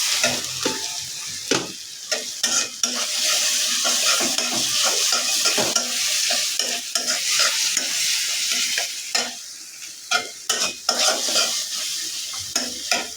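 Eggs are stirred and scraped in a sizzling frying pan, with repeated utensil clinks against the pan over steady frying hiss, close and continuous.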